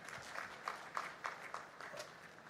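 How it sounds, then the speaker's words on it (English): Faint, distant applause from the audience at a national convention in India attended by the Vice-President and the Governor of Uttar Pradesh, a few rhythmic clap peaks standing out above a soft, steady wash of hands. "A huge round of applause, ladies and gentlemen."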